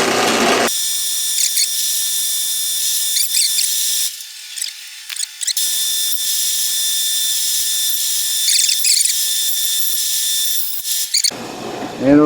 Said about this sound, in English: put my drill press on its lowest speed